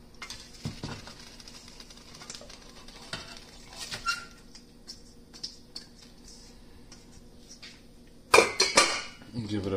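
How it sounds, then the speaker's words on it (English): Cooked beans for homemade British beans on toast, with tomato, sage and garlic, stirred in a pot: soft wet scrapes and light clinks of a spoon against the pot, quiet and sparse, then a louder burst of clatter near the end. "Give it a good stir."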